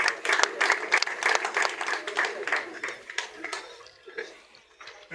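A crowd claps for the Vice Mayor at a district awards ceremony honouring partner organisations, with dense, uneven applause that thins toward the end as voices carry underneath.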